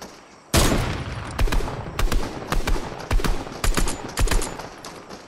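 Video game shooter gunfire, rapid loud bursts of shots cracking in a fast irregular rhythm, close and dominant with no talk over it.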